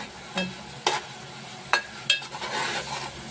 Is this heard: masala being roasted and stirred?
yes